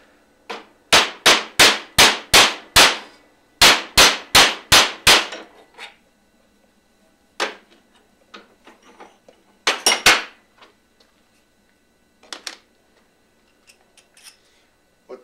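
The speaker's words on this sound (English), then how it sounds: "and we're going to expand this using just an ordinary hammer" A hammer strikes metal tubing in two quick bursts of about six sharp ringing blows each, followed by scattered lighter taps and clinks.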